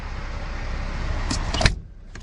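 An electric power window on the sleeper cab of an American semi truck hums steadily as it opens, ending with a soft clunk near the end; the sound is close and alone.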